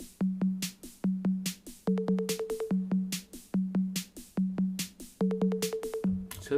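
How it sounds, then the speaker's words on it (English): A high electronic tom pattern from a Roland JD-Xi synthesizer plays alone, a steady run of sharp, pitched drum hits in repeating bars, with a higher-pitched tom figure joining in some bars. "That one there, like a high electronic tom sound"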